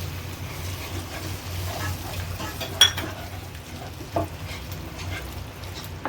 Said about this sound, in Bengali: এবার আমি একটুখানি দুধ দিচ্ছি।